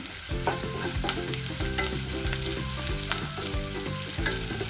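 Slit green chillies frying in hot oil for restaurant-style Chicken 65, giving a steady, loud close sizzle with occasional stirring scrapes and no talk.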